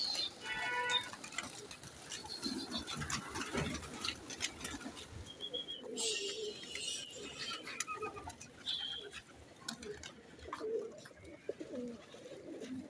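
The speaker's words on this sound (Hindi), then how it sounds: "ये देखें जी हमारा बड़ा शहजादा कबूतर है, बड़ी पुरानी नस्ल है ये तो चीज़" Pigeons of an old Shahzada breed coo softly in a loft, with low repeated coos, fluttering and scattered chirps from other birds around them, faint and close.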